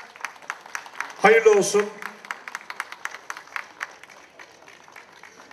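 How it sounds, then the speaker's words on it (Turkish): Scattered applause from an audience at the Malatya Promotion Days event in Yenikapı, steady sparse claps throughout, with someone briefly speaking over it near the start. "Evet, alkışlar."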